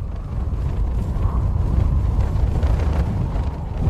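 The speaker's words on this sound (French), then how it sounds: "Dans la nuit, le vent s'est transformé en tempête." A storm wind on the snow and ice of Queen Maud Land, Antarctica, roars and buffets against the microphone in a continuous low rumble with gusty surges.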